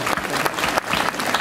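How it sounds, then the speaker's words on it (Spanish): Sustained audience applause for the Casino queens at a coronation gala in Novelda, a dense, steady clapping that fills the hall with only small swells. "fuerte el aplauso para ellas"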